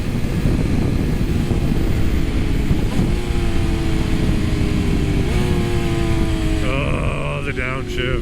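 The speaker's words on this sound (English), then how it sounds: "Oh, the downshift." A vehicle engine running loud and close, its pitch sweeping down through a couple of downshifts, with a voice talking over it.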